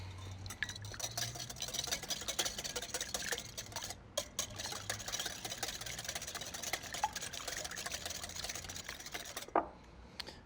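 Fast, continuous rhythmic clicking of a whisk or fork beating a couple of eggs in a bowl for a fried chicken egg wash, close and fairly quiet, with a short pause midway and no talking.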